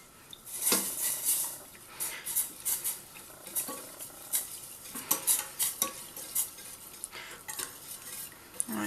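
A spoon stirs and scrapes through a thickening sauce in a pan as 400 ml of milk goes in a little at a time, with repeated close clinks and scrapes in an irregular rhythm and a soft sizzle beneath.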